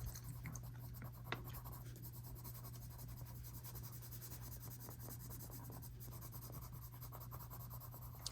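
Steady, faint pencil scratching while shading a bunny drawing, soft continuous rubbing strokes over a low electrical hum.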